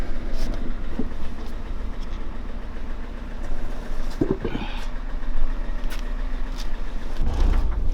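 A project car engine, bought as a base for a boosted sleeper build, idles roughly and unevenly with a steady low rumble broken by irregular stumbling pops. The engine sounds close, and there is no talk over it.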